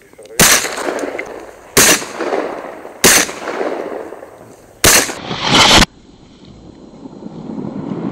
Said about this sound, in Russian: это первый случай в моей охотничьей практике, когда я сбил одним выстрелом в лед сразу 3 утки